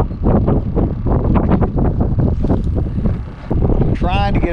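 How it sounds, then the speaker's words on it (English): Strong wind buffets the microphone aboard a small inshore fishing boat on a cold late-winter day near Saint Marys, Georgia, a loud continuous roar with gusting swells, and a voice speaks briefly near the end. "We're trying to get out of the wind,"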